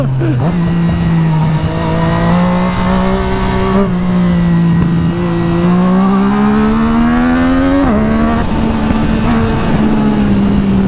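Yamaha MT-09 motorcycle engine, a loud, close, rising drone that climbs in pitch through the gears, with brief dips at each shift.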